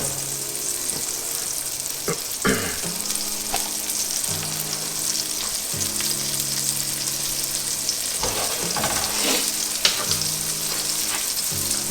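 Thin breaded beef steaks (milanesa) fry in a pan with a loud, steady sizzle throughout, broken by a few clacks and scrapes of tongs or utensils, with no voices.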